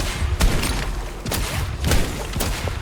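Cannon fire in the video game Naraka: Bladepoint: about four heavy, booming blasts spaced irregularly across a few seconds, loud and close, with no talking.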